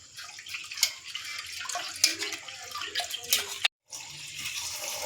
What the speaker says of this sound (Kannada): ಅಷ್ಟೊತ್ತಿಗೆ ನಾನು ಬೇಳೆ ಎಲ್ಲ ತೊಳ್ಕೊಂಡು ರೆಡಿ ಮಾಡ್ಕೊಳ್ತೀನಿ